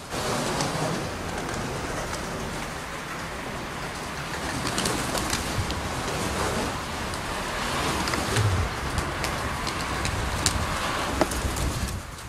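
Racing pigeons arriving back at an outdoor loft, a soft steady wash of wings, cooing and bird calls over continuous broadband noise, with no talk.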